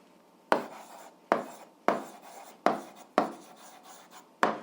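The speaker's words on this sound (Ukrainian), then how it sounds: "Ну що ж, записуємо відповідь, пишемо відповідь" Scratchy writing strokes while an eighth-grade algebra answer is written down, six distinct close strokes spaced roughly evenly and each fading quickly, with nothing else heard.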